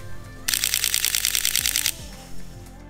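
Sony A7III camera shutter firing in burst mode, a rapid rattling run of clicks lasting about a second and a half, close and crisp against a quiet room.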